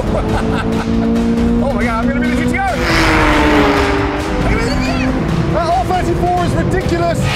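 A 2023 Corvette Z06 and a Nissan GT-R drag racing, with loud engines revving and roaring past amid excited shouting voices throughout.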